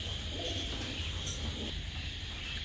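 Pigeons kept in a loft, grizzle and white birds among them, coo softly and continuously against steady background noise.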